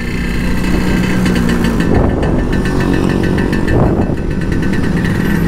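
A Vespa scooter engine pulling away in first gear, a loud, close, buzzing drone that rises in revs with two brief surges as it accelerates, steady and continuous with no voices.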